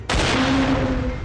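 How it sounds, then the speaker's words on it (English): An auto shotgun firing in a zombie video game, one abrupt loud blast that holds as a dense roaring burst with a humming tone underneath, close and without talk. "The auto shotgun again."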